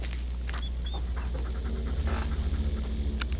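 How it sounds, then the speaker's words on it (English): A dog panting in the Blair Witch video game, quick rhythmic breaths close by over a low ambient rumble, with a couple of brief clicks. "I hear the dog."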